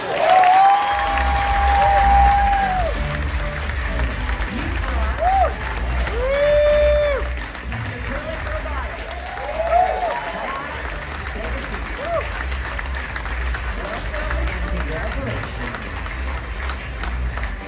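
An audience at a startup pitch competition claps and cheers for the top three finalists, sustained crowd noise with whoops and whistles, and a presenter's voice over the top.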